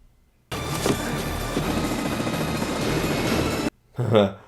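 A helicopter's rotor roar in a scene from the film Rambo: First Blood Part II fills the air for a few seconds, steady and loud, then cuts off abruptly, followed by a brief voice.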